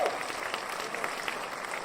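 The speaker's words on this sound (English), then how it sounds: "I have to applaud." Steady applause from a crowd, dense and even throughout, heard alone at a moderate distance without any talking.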